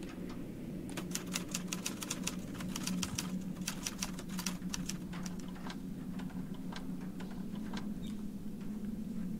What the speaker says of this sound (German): Eine Schreibmaschine?